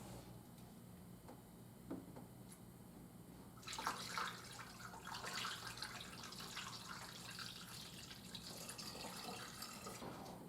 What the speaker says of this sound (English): Fill up the coolant reservoir, see what comes out.